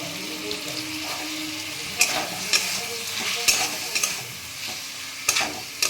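Okra cooks in a pan as beaten yogurt is added, making a steady, close sizzle and frying hiss. Several sharp utensil clacks against the pan break through as it is stirred.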